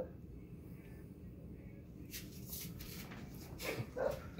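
Faint, high little whimpers and squeaks from three-week-old American Bully puppies, mostly toward the end, over a soft background hum.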